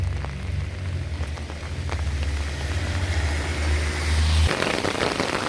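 Steady rain hiss with a low engine rumble underneath for most of it; the rumble cuts out near the end, leaving the rain alone.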